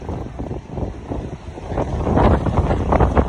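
Strong wind roars and buffets the microphone in heavy, uneven gusts at a hilltop park in Mauban, Quezon, Philippines, growing louder toward the end, with no voices.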